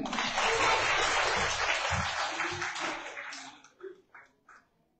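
A crowd at an awards moment during a rooftop farming class claps steadily for about three seconds, then the applause thins to a few scattered claps and a murmur before fading out.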